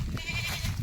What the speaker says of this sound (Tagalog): Kambing pala dito.